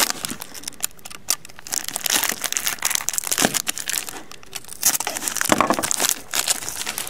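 Packing tape is peeled and torn off a card package, giving close, loud, continuous crinkling and ripping with sharp irregular bursts and no talking.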